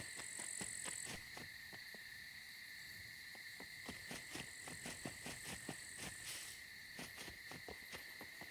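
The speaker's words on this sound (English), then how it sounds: "Sounds in this game are pretty good too. The crickets and nighttime birds." Crickets chirp in a steady, dense high-pitched drone through a nighttime game scene, with scattered bird calls and soft pattering ticks throughout; no talking.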